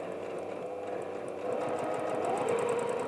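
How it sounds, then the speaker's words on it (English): Sewing machine stitching a back stitch through four layers of denim while making a wallet, a short close burst of rapid needle chatter that grows slightly louder midway, no voices. "I'm just going to go over the original sew line again and just do a back stitch just to tack it in place"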